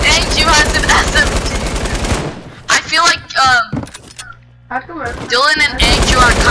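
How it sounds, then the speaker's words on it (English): Rapid SMG bursts in Fortnite Creative, dense rattling automatic fire in sustained runs broken by a short gap with scattered shots, then another heavy spray; loud and close, with game sounds mixed in. "SMG spray again by Andrew!"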